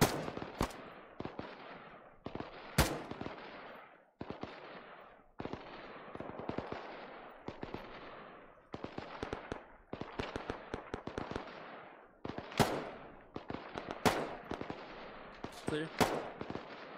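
Gunfire in the military shooter ARMA 3: repeated sharp shots and short bursts crack out across the whole stretch, some close and loud, others more distant, with brief gaps between volleys.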